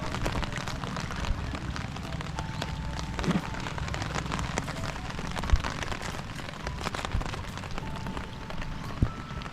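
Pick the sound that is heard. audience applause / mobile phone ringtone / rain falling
rain falling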